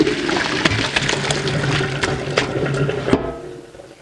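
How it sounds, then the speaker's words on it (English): Boiled cabbage and hot water pour through a colander in a kitchen, a steady rushing splash with scattered drips and clatter that tapers off at the end. "Now I'm just going to strain this, pass it through my colander."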